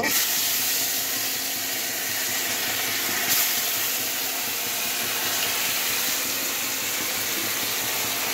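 Fish frying in hot oil in a pan, a steady loud, dense sizzle and crackle running throughout without pause.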